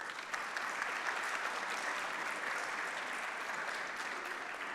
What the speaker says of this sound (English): a round of applause for all of them too